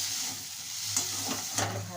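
Chopped tomato frying in a pan for fish kalia, a steady close sizzle with a couple of soft stirring scrapes and no talk.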